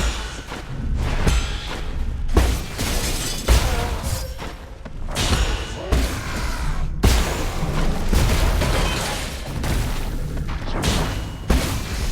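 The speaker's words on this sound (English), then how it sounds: "Why is Yi unaffected by that explosion?" Booming explosions and heavy thuds from the action game Nine Sols fill the scene, loud and dense, with repeated impacts and whooshes layered over a constant rumbling game soundtrack, with no voices.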